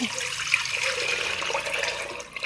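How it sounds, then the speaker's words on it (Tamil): Strained liquid poured from one container into a large kitchen vessel, a steady watery splashing and trickling that runs close and moderately loud for a couple of seconds before easing at the end. "அரிச்செடுத்ததை கொஞ்சம் பெரிய பாத்திரத்தில் எடுத்து ஊற்றிடலாம்"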